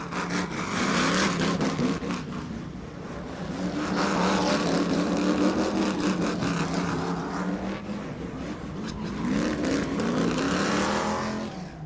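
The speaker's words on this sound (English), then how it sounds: "George burnout in front of Derek Pugh." Pro racing truck doing a burnout at a race track in the rain, a loud sustained engine roar with rising and falling revs and tire noise lasting the whole stretch, close and dominant with no talk.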